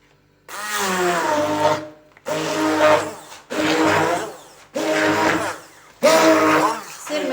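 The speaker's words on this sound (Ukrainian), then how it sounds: "буду збивати блендером." A blender whirs loudly in five short bursts, each lasting about a second with brief pauses between, close up, mixing curd cheese batter with semolina.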